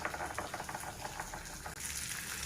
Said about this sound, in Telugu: ఈ టమాటా వేగుతుంది కదా